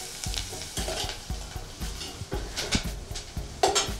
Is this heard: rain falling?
no